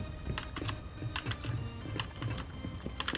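Typing on a DOREVO computer keyboard, a steady run of quick, close key clicks with uneven rhythm and occasional heavier keystrokes, with no talking.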